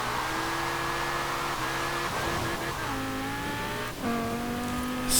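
A 1995 BMW M5 drifting in Forza Horizon 4, its engine droning loud and close while pitch steps shift with gear changes, and a faint tyre squeal sits under the engine.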